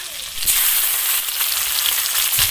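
Chopped tomato with spice pastes of cumin and coriander, plus a five-spice tempering, sizzling hard in hot oil in a pan, a dense steady crackle close up with a brief stir, and no voice.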